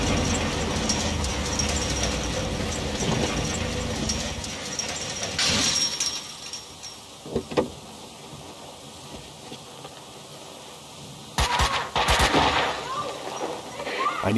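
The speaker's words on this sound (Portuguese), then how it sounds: "Começa a dar tiro." Bursts of rapid gunfire crackle over rumbling game noise in Max Payne 2, fading out midway before another loud volley near the end.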